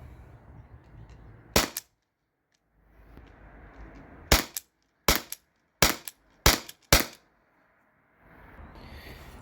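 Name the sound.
T4E P2P HDP50 Gen2 pistol shots at targets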